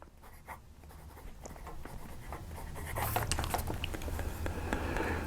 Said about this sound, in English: And this pen, it writes very well.